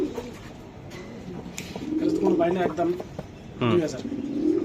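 A racing pigeon coos in low, throaty rolling bursts close by, while people talk over and between the calls.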